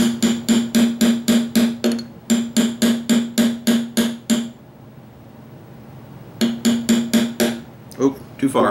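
A hammer taps a steel punch to drive a pin through a Daiwa Zillion TWS 100H baitcasting reel, sharp metallic clinks in fast regular bursts, a short pause, then more close taps.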